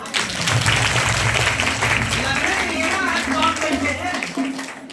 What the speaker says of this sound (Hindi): यीशु मसीह के लिए ताली बजाइए पहले।